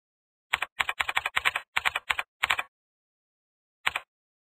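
Bursts of clicking keystrokes on a computer keyboard, several quick runs of typing followed by a pause and one last short burst, crisp and close in an otherwise silent room.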